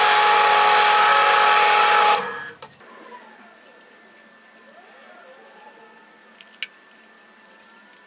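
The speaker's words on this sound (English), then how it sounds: "now I'm gonna drill some holes through it" A loud whirring power drill runs steadily, drilling holes through a knife handle bolster, then winds down and stops, leaving quiet room tone broken by a few faint clicks.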